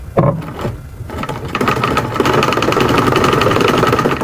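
A sewing machine stitches hip padding foam onto a mermaid skirt, starting with a few short bursts and then running into a steady, rapid mechanical whirring and clatter.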